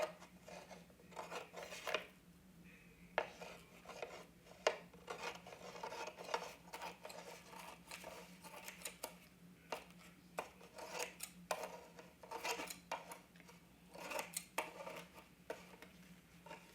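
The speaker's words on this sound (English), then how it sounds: "I'm just going to trim off all the excess napkin." Scissors trim excess napkin from a craft piece made from an old ceiling fan blade, giving faint, scattered snips and rustles at close range with nothing else over them.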